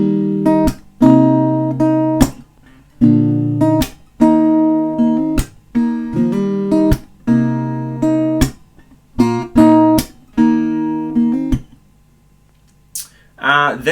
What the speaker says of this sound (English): So altogether that first little verse section sounds like this.